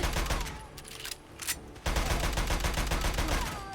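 Rapid pistol fire from a Spec Ops USP Mark 23 in Fallout 4 crackles in dense, overlapping bursts, loud and close, with a short lull partway through before the shooting resumes.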